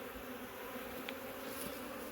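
Close, constant buzzing of many honey bees around an open hive frame with freshly drawn comb, a thick even hum with a brief higher whine passing by and no speech.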